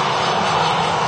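Singapore Airlines jet engines spool up on a takeoff roll at Manchester Airport, a loud, steady broadband roar that holds without letup through the short stretch, close and alone.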